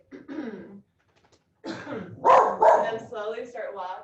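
A sick dog barks in a home during a yoga session, a couple of short close barks and throaty yips mixed in with a person's speech.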